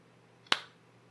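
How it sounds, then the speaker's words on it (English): One sharp, single hand clap rings out alone in a quiet room, crisp and close with a short decaying tail. "I'm going to give a clap of the hands"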